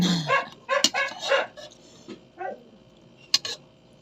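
Dogs bark in short, sharp bursts and clusters, with yips mixed in, loud and fairly near. Quieter gaps separate the outbursts, and no voices are heard.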